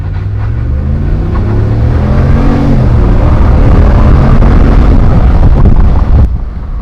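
Near, loud rumbling roar of a 2020 RAM 1500 Laramie pickup's 5.7 Hemi V8 accelerating with the windows down, rising engine tones blended with heavy wind buffeting and road noise, no talking.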